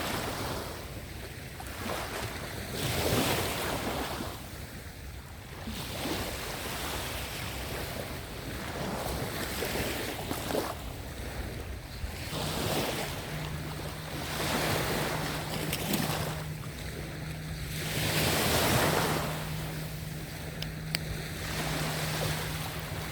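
Surf washes in steady swells along a Tel Aviv beach in the early morning, with wind buffeting the microphone and a faint low engine hum joining partway through; no one speaks.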